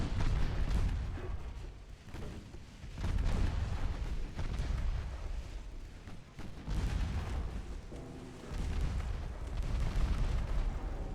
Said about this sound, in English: We got one torpedo hit though